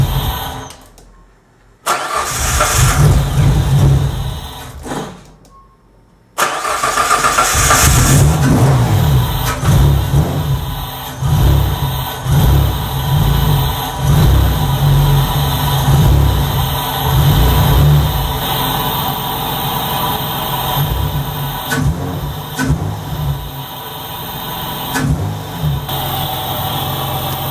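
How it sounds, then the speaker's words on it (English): A Hyundai Tiburon with a BDR restrictor plate and poly inserts cranks briefly, cuts out, then fires up and settles into a loud, close idle with repeated throttle blips and revs rising and falling. "we're gonna start up the car, give her a little throttle, see how she runs"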